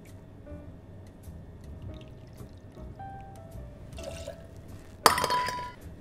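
Dolan Dry vermouth is poured into a mixing glass, a faint trickle and soft splash building near the end with a bright glassy clink, close and alone.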